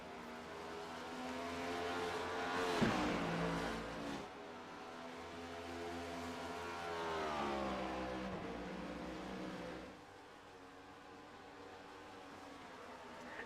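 Race cars battle around Road America in a sim racing series, engines droning steadily with rising and falling revs and pitch sweeps as cars pass, a dense continuous roar throughout.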